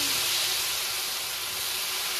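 Mango pickle hitting hot mustard oil in a pan gives off a steady, bright frying sizzle and hiss, close and constant, with no one talking.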